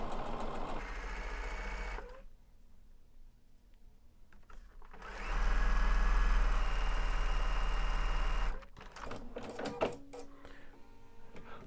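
A Bernina bulky overlock machine sewing piping cord runs in two bursts, a fast close rattling whir that stops and then returns louder for a few seconds before cutting off, with no talk.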